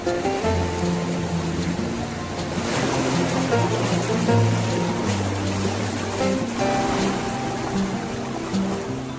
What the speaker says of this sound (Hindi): जो कि है रिवर की साउंड।